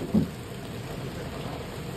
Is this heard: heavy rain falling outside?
yes